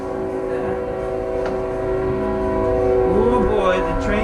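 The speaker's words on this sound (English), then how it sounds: "Oh boy, the trains are coming." Trains rolling past near a turbo VR6 S10 build in a garage, with a sustained horn-like tone holding steady and a rising wail near the end, all fairly loud and continuous.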